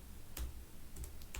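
Fingers typing Python code on a computer keyboard, a few faint, sparse key clicks spaced across a quiet moment with no talking.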